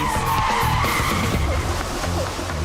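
A BMW 535d charges down a 1.7-mile runway at full speed, its loud, steady engine roar close and continuous with tire noise and a faint whine rising over it, no voices.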